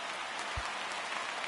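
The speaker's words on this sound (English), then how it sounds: "There is rain." Steady rain in the baseball video game MLB The Show 19, a constant hiss of falling drops on a surface with a single brief low thump partway through.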